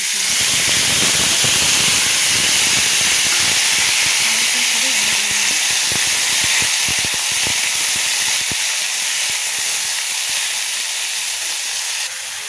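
Capsicum and carrot fry in hot oil in a wok, a loud constant sizzling hiss with crackles that holds throughout and fades only slightly near the end.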